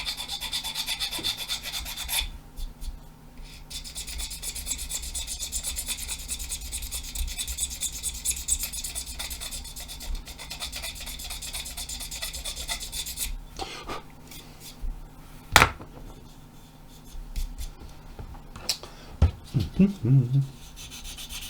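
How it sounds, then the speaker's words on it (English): Steady scratchy rubbing of a sanding sponge over a model kit, continuous strokes for a long stretch, then a few scattered knocks and taps. "So we'll just whip round here with the old sanding sponge."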